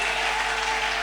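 A church congregation applauding during a French-language sermon, steady dense clapping filling the short moment at even loudness, with no speech over it.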